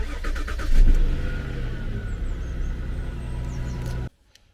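A Jaguar S-Type engine starts and idles while warming up, with a quick rev near the start settling into a steady, close mid-pitched hum that cuts off abruptly just before the end.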